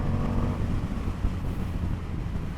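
A 2022 Indian motorcycle engine revs steadily with a deep, continuous drone, heavily buffeted by wind rushing past the microphone while riding.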